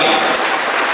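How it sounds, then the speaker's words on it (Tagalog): A church congregation in the Philippines applauds, a dense, loud wash of many hands clapping at once, steady for the full second. "Pwede ko makibigay natin yung pinakamataas sa palakpak na papuli sa Diyos sa buhay."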